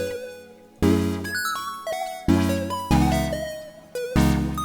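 A beat loop made in Ableton at 144 BPM plays loud and bright, with repeating chord stabs and descending melodic notes over punchy low hits in a steady groove, and there is no voice.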